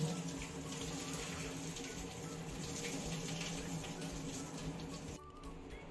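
Boiled noodles drained in a kitchen, water pouring in a steady rushing stream for several seconds before easing off near the end, fairly quiet and close, with no talk.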